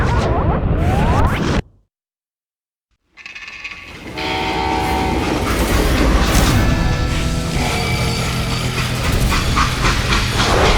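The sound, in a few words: train in a video game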